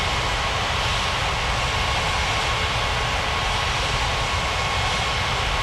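Jet airliner on its takeoff roll in an air traffic control video game, a steady loud broadband roar of engines holding constant throughout with no voices over it.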